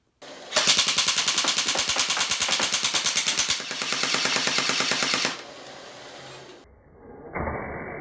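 A modded Glock pistol firing full-auto at a robot vacuum cleaner, a loud rapid continuous burst lasting several seconds, then tapering into mechanical whirring and a short buzzing noise.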